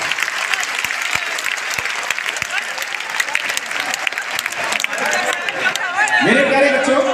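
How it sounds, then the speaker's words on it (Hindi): An audience at a Patna event breaks into loud, sustained clapping to welcome a guest, dense and even, with a voice rising over it near the end. "एक बार जोरदार तालियों से"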